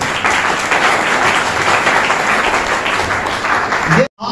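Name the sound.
audience applause at seminar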